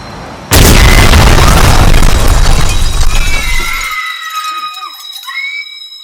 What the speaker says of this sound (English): that ringing after the explosion